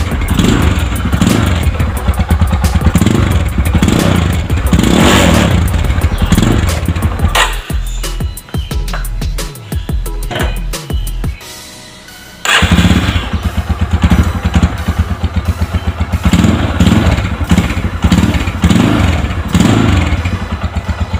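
A Yamaha Scorpio motorcycle with its stock exhaust revs loudly and close, rhythmic throttle blips rising and falling, then drops to a rough, clattering idle before revving hard again.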